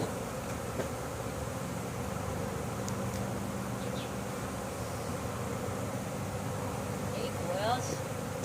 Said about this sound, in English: there are a lot of bees flying around